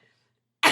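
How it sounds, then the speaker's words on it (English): A single sharp cough bursts out abruptly after near silence, close and loud. "I have a cough that I'm not able to get rid of, so I might randomly cough"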